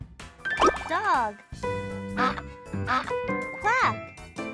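A duck quacks several times in short, nasal bursts, close and distinct, alternating with spoken words in a children's animal-sounds lesson.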